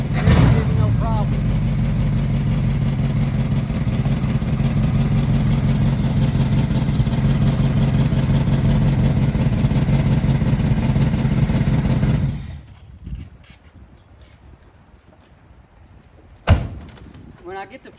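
A Chevrolet Monte Carlo G-body V8 runs loud and close with a deep, throbbing rumble for about twelve seconds, then cuts off abruptly into near silence broken by a single sharp knock.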